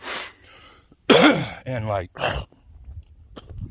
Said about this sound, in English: this freaking persistent cough